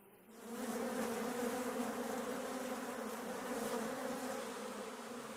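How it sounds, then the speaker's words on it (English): A swarm of honey bees pouring out of a hive, a dense continuous buzzing drone that holds steady and loud throughout. "They swarm out of the hive in a mad, swirling rush."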